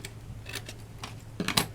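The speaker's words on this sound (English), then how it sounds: "when you're fussy cutting, try and move the image rather than move the scissors." Scissors fussy cutting around a paper image for a handmade embossed Valentine's card, giving a few quiet, irregular snips and crisp clicks close by, with no talking.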